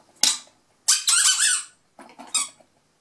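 Light-up sensory ball toy squeezed to give several short, sharp squeaks in separate bursts, close and clear against silence.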